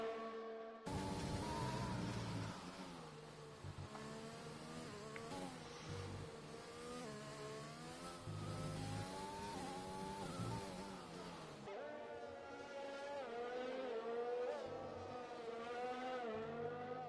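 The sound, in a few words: race cars on Sochi circuit in F1 video game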